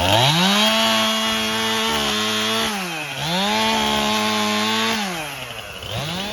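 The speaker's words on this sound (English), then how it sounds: "I'll come through with my chainsaw and cut them up" A chainsaw roars loudly and close, its engine pitch dipping and rising in repeated surges as it bites into logs outdoors.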